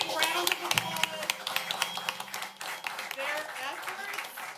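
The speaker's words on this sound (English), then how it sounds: "So if we can give our kids a big round of applause," Applause from the audience at a school district board of education meeting honoring students, a crowd of mixed clapping that continues steadily through the clip with voices mixed in.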